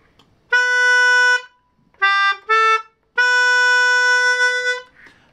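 Reedy sustained notes from a D/G melodeon playing B natural: one long tone, two short ones, then another long held note, played clearly with no talking.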